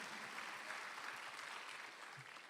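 Soft, distant applause from a church congregation during a Sunday afternoon worship service, a steady dense patter lasting a couple of seconds at low volume with no talking over it.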